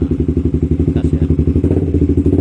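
Honda CB150 motorcycle engine with a sputtering, misfiring fault, run up on the throttle, giving a loud, close, steady thumping exhaust pulse with a rough, uneven beat that quickens slightly toward the end, no voices over it.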